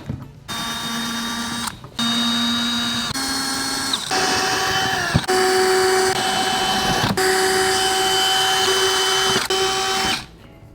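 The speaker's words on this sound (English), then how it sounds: "I have a pretty good idea where all the screws are. So what I'm gonna do is just back them out enough to get this panel off." A power drill backs screws out of a fiberglass console panel on a Tracker Pro Guide V-16 WT boat, running in several sustained whirring bursts with short pauses between them, close and loud.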